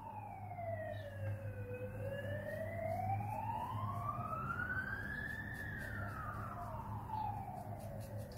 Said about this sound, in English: Hear that siren all the time, because we're on a main road, night and day.